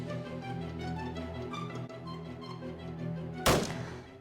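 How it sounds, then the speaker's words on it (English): A Foley gunshot in thriller film footage lands as one sharp, loud crack near the end, cutting through a steady droning background. The footage is slowed down. "using the Foley sound of a gunshot"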